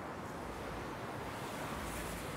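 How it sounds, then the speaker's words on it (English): Ocean waves wash against the coast at Puerto Viejo, Costa Rica, as a steady, broad roar of surf with a windy hiss, continuous and without distinct breaks. "I hope you can enjoy the background and the sound of the waves."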